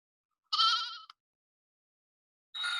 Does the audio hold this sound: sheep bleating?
yes